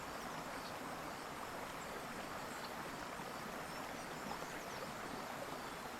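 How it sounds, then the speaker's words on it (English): Soft continuous rush of flowing stream water in a video game scene, faint and even throughout with a hissing, bubbling texture and no voices. "I like the sound of that water."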